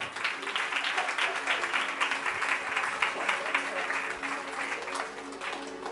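Applause from a church congregation during a Marathi-language sermon, a steady wash of clapping lasting several seconds at moderate level.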